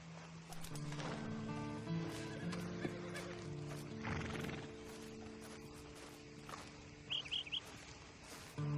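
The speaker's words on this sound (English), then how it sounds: "Then you better get on this horse." A horse in the video game Red Dead Redemption 2 whinnies and snorts amid hoof clopping, with faint birds chirping in the background and a low musical drone underneath.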